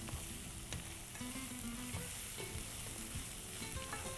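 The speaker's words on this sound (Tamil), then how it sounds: "குடமிளகா, கோஸு, இதுலேயே நான் சொன்னேன் வெங்காயத்தாள் போட்டு நல்லா வதக்கிடுறோம்." Capsicum, cabbage and spring onion sauté in a pan with a constant soft sizzle, punctuated by scattered light scraping and clinking as the vegetables are stirred.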